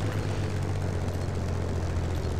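Hawker Hurricane fighter engine in War Thunder, a steady loud propeller drone with a low throbbing hum that holds constant throughout, no voices.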